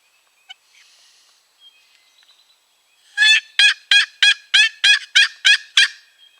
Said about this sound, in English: I just heard a distant gobble.